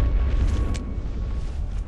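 A heavy rumbling boom from the First World War video game Valiant Hearts, a gunshot or cannon blast with a deep, sustained low roar across the whole short clip.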